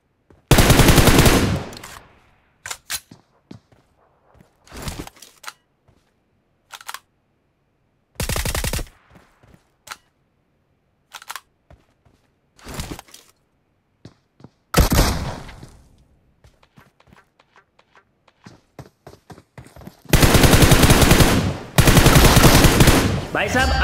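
Bursts of gunfire from a battle royale mobile game fight, with rapid automatic fire in several loud clusters separated by short quieter gaps and scattered single shots.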